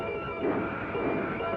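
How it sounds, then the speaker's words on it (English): Santa Fe Railroad steam-era locomotive train running at Atchison, a steady continuous rumble with a faint sustained tone on top, even and unbroken throughout. "our grandparents looked at this locomotive in amazement"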